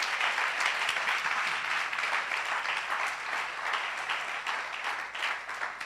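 A church congregation applauds and acclaims Jesus with steady, dense clapping mixed with cheering voices, loud and sustained throughout.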